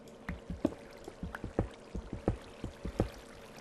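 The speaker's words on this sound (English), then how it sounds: "Every time I've walked past, I've heard running water." Running water in a cave in a video game, with dripping and splashing sounds arriving as irregular, fairly distinct drops and gurgles over a steady watery background.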